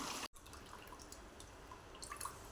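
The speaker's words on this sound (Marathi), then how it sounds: "ह्या गव्हामधलं ना अगोदर आपण पाणी काढून घेऊया खाली चाळणी लावली आहे बघा" Water from soaked wheat drains through a sieve, giving a steady close trickle with scattered drips and a brief cut near the start.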